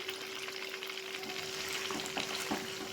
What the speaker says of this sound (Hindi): चिकन जो है वो फ्राई होना स्टार्ट हो गया है।